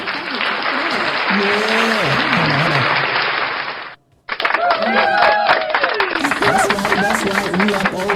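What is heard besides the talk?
applause clap sound effect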